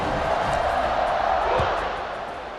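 A stadium crowd in EA Sports College Football 26 roars at a college football game as a team gets set to kick off: a dense, steady wash of cheering that eases slightly toward the end.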